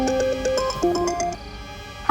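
A mobile phone ringtone plays a short melodic tune of stepped notes, fairly loud and close, alone without voices before a sudden sound at the very end.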